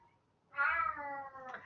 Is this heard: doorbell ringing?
no